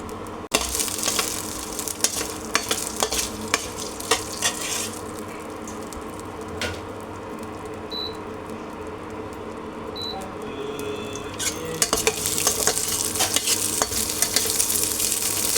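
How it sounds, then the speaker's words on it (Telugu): Garlic cloves and coriander seeds fry in oil with a steady, even sizzle. Occasional stirring clicks and scrapes cut in, and the sizzle grows a bit busier toward the end. "వెల్లుల్లి రెబ్బలు బ్రౌన్గా వచ్చే వరకు వేయించుకోవాలి."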